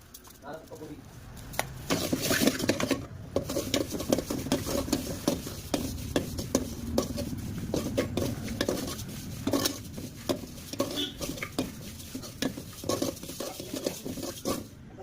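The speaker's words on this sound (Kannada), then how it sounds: "ಈಗ ಸೋಂಪುನು ಜೀರಿಗೆ ಹಾಕ್ತಾ ಇದ್ದೀನಿ. ಸುಮ್ಮನೆ ಲೈಟಾಗಿ ಹುರ್ಕೊಂಡ್ರೆ ಸಾಕು" Fennel and cumin seeds lightly roasting in a pan with continual scraping and clinking of a spoon against metal, close and steady, while a voice speaks and birds coo faintly in the background.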